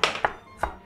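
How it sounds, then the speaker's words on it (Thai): A knife chops coriander roots on a cutting board: three quick, sharp thunks, the first two close together and a third after a short pause. "เราหั่นรากผักชีให้เล็กลงเพราะว่าวันนี้เราจะตำ"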